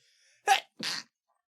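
Two quick sneezes close to the microphone, a sharp burst followed by a second slightly longer one, in an otherwise quiet room.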